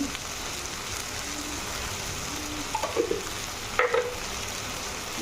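Potatoes fry in a pan for a Bengali raw banana and potato dish, with a soft continuous sizzle and a few light stirring clinks near the end, no voices.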